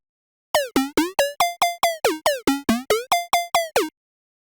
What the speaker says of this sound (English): So I'll show you how it sounds without the post-processing.